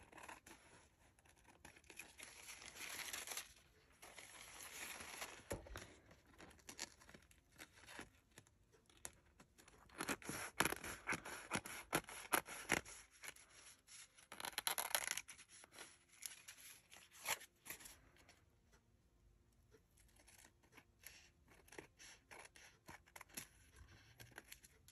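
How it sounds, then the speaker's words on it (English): Scissors cut through cardstock in bursts of crisp snipping and scraping, close and fairly quiet, with pauses between runs of cuts and paper rustling; no one speaks. "We turn it over and use this side. We should be able to cut right up to the edge."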